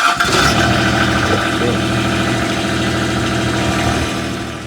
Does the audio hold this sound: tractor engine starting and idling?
yes